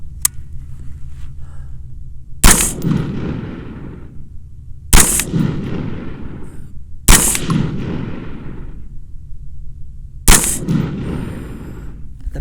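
A Smith & Wesson M&P-15 Sport rifle fires four single shots at spaced intervals at an outdoor range, each a sharp loud crack followed by a rolling echo that fades before the next.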